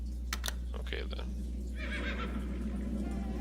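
A horse in a stable in the PC game Black Mirror lets out a couple of short neighs and whinnies over a low, constant background hum, fairly close but not loud.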